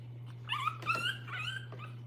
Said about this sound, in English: She's crying because she wants to get away